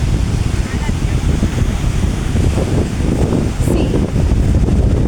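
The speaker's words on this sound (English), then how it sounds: "Looks like a lot of waves coming" Sea waves surge onto the shore by the Shore Temple at Mahabalipuram, a loud, constant wash of surf mixed with heavy wind buffeting close to the microphone.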